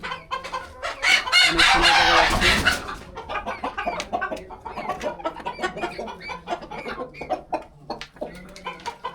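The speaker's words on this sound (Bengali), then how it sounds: "খুবই সুন্দর সুন্দর জাতের মুরগি" Brahma chickens on a poultry farm cluck in a busy, overlapping flock, with a loud rooster crow rising early on before the clucking continues in short, close bursts.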